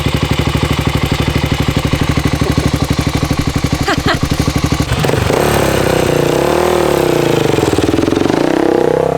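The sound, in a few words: Honda XR 400 motorcycle engine running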